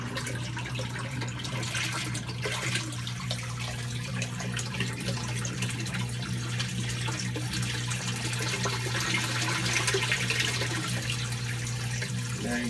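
An aquaponics bell siphon in a greenhouse breaks and drains, a continuous gurgling rush of water with a low steady hum from a pump behind it, no talk.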